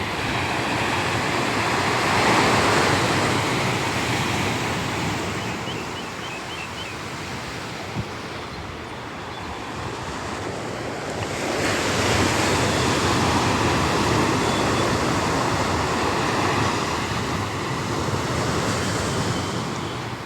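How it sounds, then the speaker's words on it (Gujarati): Rough sea waves break along the shore at Porbandar, a continuous roaring surf that swells and eases in broad surges, with wind buffeting the microphone and no voices. "લ્યો દરિયાની મોજ અટાણે ગાંડો તૂર હે"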